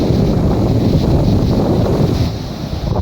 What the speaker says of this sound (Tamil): சரியான காற்று.